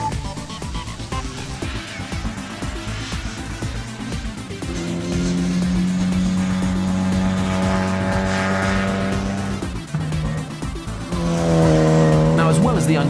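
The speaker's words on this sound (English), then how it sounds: "this supercharged engine is another A-series that sounds superb" Supercharged A-series engine in a Mini race car on a circuit straight, a deep, loud roar that climbs in pitch through the gears, with brief dips at the shifts and a louder, harder pull near the end.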